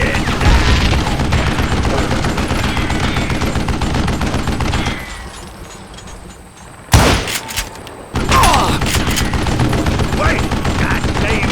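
Rapid gunfire bursts from the video game Call of Juarez Gunslinger, loud and dense, with a brief lull and a few sharp shots before the shooting resumes.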